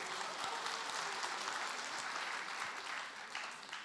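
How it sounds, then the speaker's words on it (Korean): A church congregation breaks into sustained clapping during a Sunday evangelism testimony service, a dense, even patter that stays at a moderate level, somewhat distant, with no clear voices over it. "12명 박수 치고."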